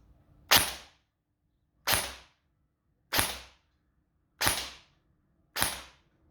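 An airsoft gun with a 25k motor fires five sharp, single shots roughly a second apart, each a crisp close snap with a short decay, separated by near silence.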